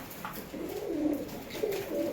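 Pigeons coo softly at night while being fed, a few low throaty burbling calls close by over a quiet background.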